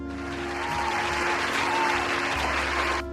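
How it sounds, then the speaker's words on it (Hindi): Dense applause from a crowd, a continuous even clatter of many hands clapping at steady loudness for about three seconds before cutting off. "पहले तो इतने अच्छे सवाल के लिए तालियां"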